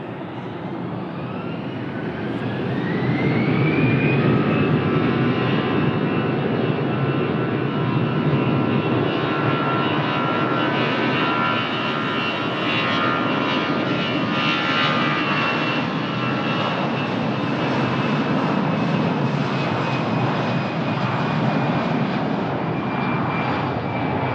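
An Airbus A320 taking off at Lisbon Airport, its engines swelling to a loud, steady roar with a rising whine that holds for the rest of the stretch, with no voices.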